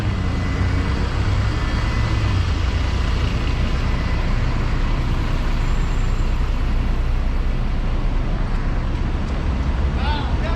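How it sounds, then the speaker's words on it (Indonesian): A free city bus with air brakes at night in central Kuala Lumpur: a loud, continuous engine and traffic rumble close by, with a brief hiss, and voices murmuring in the background. "Kalau kalian mau naik bus gratis, boleh ya. Ini busnya ada di sini."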